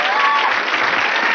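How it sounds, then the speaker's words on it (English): Loud, steady applause from a studio audience on a 1990 Donahue talk show taping in Los Angeles, dense clapping with crowd noise sustained throughout without a break. "You're applauding"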